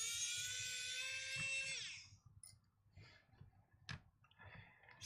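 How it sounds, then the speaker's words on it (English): A small electric screwdriver drives screws into an original Game Boy, its motor whining steadily for about two seconds before winding down, then a few short clicks and taps. "Not too bad, all these screws with an electric screwdriver"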